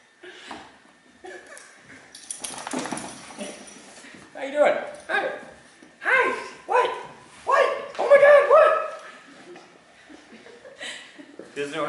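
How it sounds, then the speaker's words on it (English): A dog barks in a run of about five loud, evenly spaced woofs near the microphone, with people talking and chatting earlier in the clip. "There's a dog in there."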